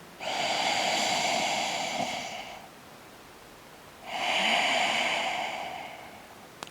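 Two long, slow, airy breaths during a yoga pose focused on the pelvic floor, each lasting a couple of seconds with a pause between, close and fairly soft, with no talking.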